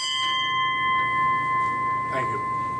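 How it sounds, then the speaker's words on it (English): A ship's bell rings at a submarine veterans' memorial meeting, its steady metallic tone sustaining and slowly decaying over a hushed room. "Ring the bell one more time for our shipmates still on patrol."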